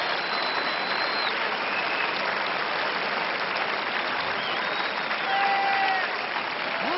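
A tennis crowd at Roland Garros in 1993 applauds Andrei Cherkasov during his first-round match against Sampras, sustained even clapping from the stands with a brief swell near the end.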